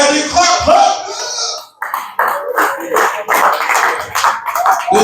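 An audience at a Memphis magic night breaks into a burst of clapping after a voice calls out, the applause steady and fairly loud with some shouting and chatter mixed in.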